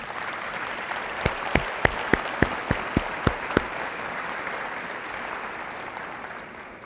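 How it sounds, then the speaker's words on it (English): Audience applause at a college completion summit luncheon keynote, a steady wash of clapping with a few sharp, distinct claps standing out early on, then fading gradually. "give you a round of applause"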